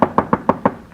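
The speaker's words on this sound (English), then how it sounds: "Knock on all the doors" Five sharp, evenly spaced knocks rap on a door in quick succession, close and distinct, followed by a faint sixth tap trailing off.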